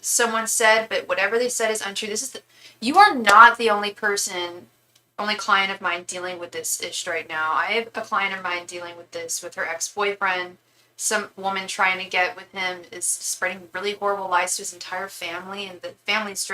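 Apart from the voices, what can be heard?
No everyday noises stand out.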